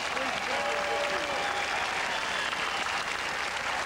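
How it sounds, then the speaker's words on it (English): An audience applauds in a continuous, dense wash of clapping from many hands, steady and fairly loud, with faint crowd voices mixed in. "Give yourselves a big round of applause"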